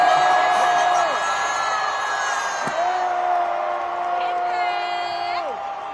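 Concert crowd at a show whoops and cheers, a loud continuous roar of many voices with sustained yells and rising and falling shouts throughout.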